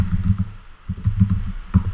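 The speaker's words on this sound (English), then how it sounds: "typing" Computer keyboard typing in a terminal while checking the installed GNU compiler version, a run of close, quick irregular key clicks with brief pauses, heard alone.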